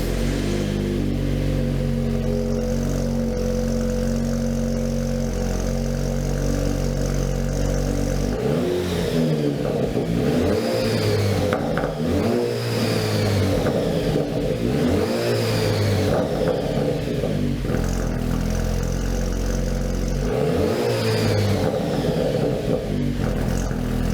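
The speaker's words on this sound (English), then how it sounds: "The AWE Tread Edition gives our Willys Jeep a nice custom look and a little more volume and a nice deep tone as well." A Jeep Wrangler Willys, 2018-2022 model, with an AWE Tread Edition axle-back exhaust idles with a deep, steady rumble. Then it revs hard several times in repeated surges that rise and fall over about fifteen seconds, loud and close, with no speech.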